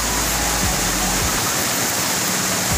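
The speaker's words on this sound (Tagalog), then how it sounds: "Yan yung Hingiwin Falls." Hinguiwin Falls in Padre Burgos, Quezon, pours as a loud, dense, continuous roar of falling water close by, with a voice faintly under the rush.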